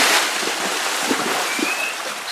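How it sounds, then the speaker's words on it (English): A horse in harness splashes and churns through water in a continuous broad wash, with wind and scattered heavier sloshes, close and fairly loud throughout. "she's got to go round past this other horse that's splashing"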